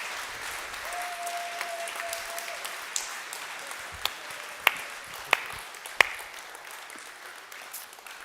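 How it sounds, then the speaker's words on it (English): An indoor audience applauds steadily for several seconds, a dense wash of clapping at moderate level with a few sharp, sudden pings and clicks standing out near the end. "can you guys do me a favor and give Shannon a round of applause?"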